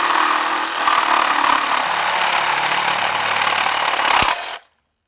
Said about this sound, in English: And we can cut that with a Sawzall,